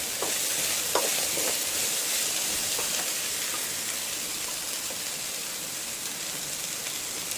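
Sliced okra and onion fry together in oil in a pan for an Andhra-style dish, giving a steady, close sizzle with a few stirring scrapes near the start and no talking.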